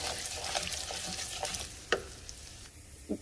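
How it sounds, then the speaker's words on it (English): Long grain rice, rinsed, toasting and browning in a pan over medium heat, with a soft steady sizzle and occasional stirring scrapes and clicks, close by with no talking. "rinsed long grain rice, and I'm going to toast and brown this over a medium heat"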